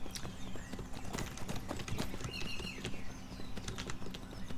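Horse hooves clip-clop in the Skyrim video game, with a steady run of sharp, close, evenly loud taps continuing throughout over a low background hum.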